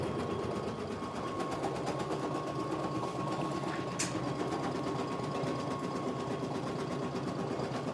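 An embroidery machine runs a placement stitch on a patch, a steady fast mechanical whirring hum with rapid needle chatter, loud and continuous throughout with no talk.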